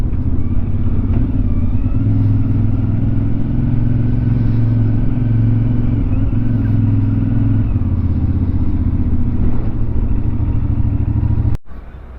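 A 2026 CF Moto 450MT motorcycle engine runs steadily at close range, a smooth, even low drone that holds without a break before cutting off abruptly near the end.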